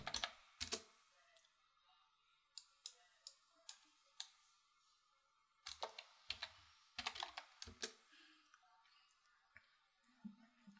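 A computer keyboard is tapped close up in a quiet room, with bursts of crisp clicking keystrokes separated by short pauses, some quick runs and some single taps.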